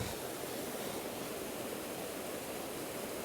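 Steady roar of rushing water at the Lohnbachfall waterfall, a dense broadband wash that stays loud and constant throughout with no voices.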